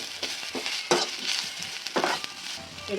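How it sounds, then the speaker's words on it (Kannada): Onions roasting in a pan on low flame, a soft continuous sizzle broken by several brisk stirring scrapes against the pan, close and fairly quiet. "ಚೆನ್ನಾಗಿ ಲೋ ಫ್ಲೇಮಲ್ಲೇ ಉರಿಬೇಕು ಚೆನ್ನಾಗಿ ರೋಸ್ಟ್ ಆಗ್ತಾ ಇದೆ ನೋಡಿ"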